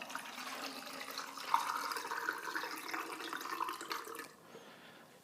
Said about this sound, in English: Go ahead and pour in my developer.